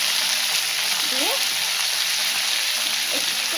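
Vegetables frying in a pan for a Bengali pumpkin-stem curry, a loud continuous sizzle with occasional faint stirring, steady and close throughout.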